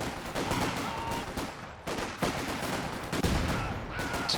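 Two Tommy guns firing from behind cover in the World War II strategy game Company of Heroes 2, sounding as sustained rattling bursts with several sharper crack-like shots over a busy battle background.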